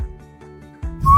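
A person's short, clear whistled note rises out of a low hum, brief and close, following a moment of quiet tones.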